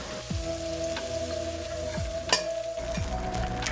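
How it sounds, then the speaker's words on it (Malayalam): Butter melting in a kadai pan on the stove gives a steady, close sizzling hiss with faint crackles, alongside a constant tonal hum and a few light clinks. "അപ്പോൾ നമ്മുടെ ബട്ടർ ചൂടായി അലിഞ്ഞു വന്നിട്ടുണ്ട്."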